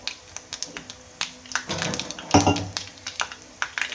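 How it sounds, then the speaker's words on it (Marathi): Mustard seeds and a little cumin crackle and pop as they drop into hot oil for a bottle gourd curry, a loud sizzling burst with sharp scattered snaps and some stirring clinks of the pan. "आता मी ह्याच्यामध्ये घालते मोहरी आणि थोडेसे जिरे"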